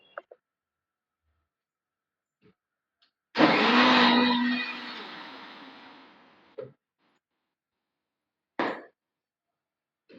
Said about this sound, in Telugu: అన్నీ మిక్సీలో పడతాను మిక్సీ పట్టేసేసి అప్పుడు కర్రీ చేస్తాను